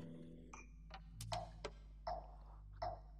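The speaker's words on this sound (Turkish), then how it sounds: "Buna göre yine metronomumuzu veriyoruz ve birlikte çalıyoruz." A metronome keeps time for a guitar lesson with a handful of sharp, evenly spaced clicks, close and clear over a quiet background hum.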